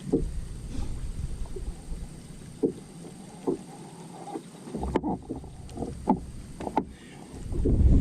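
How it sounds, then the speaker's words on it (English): Low buffeting wind rumbles across the microphone outdoors on a point at Lake Tuscaloosa, steady with gusts that swell louder near the end, alongside faint splashes and knocks. "The wind's going really, really good"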